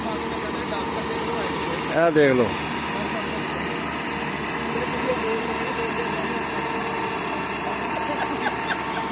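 A tractor engine labors steadily while stuck in the mud, a continuous close drone with a brief surge of sound near the start and someone speaking briefly over it.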